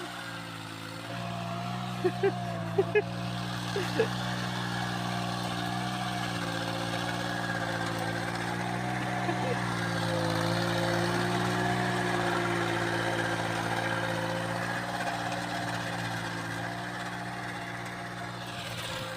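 A small mini tractor's engine runs steadily in a farm field, a close, continuous low throb with a few brief clanks early on and no break in the drone.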